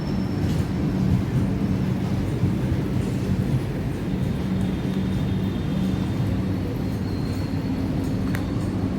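A long passenger train at Jatinegara station in Jakarta rumbles past close by in a continuous, steady roar of wheels and carriages, with faint high squeals over the drone and no talking.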